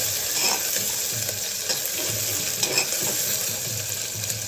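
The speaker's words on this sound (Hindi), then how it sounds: "हम इसे हल्का ब्राउन होने तक कर लेंगे।" Potatoes and green onions fry in a pan until lightly browned, with a continuous close sizzle and intermittent stirring scrapes and clatter. No one speaks.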